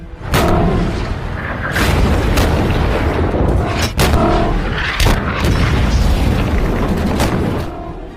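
In a war film battle, White Tiger tank cannon fire and explosions boom loudly and repeatedly over a dense rumbling roar, with heavy blasts every second or so.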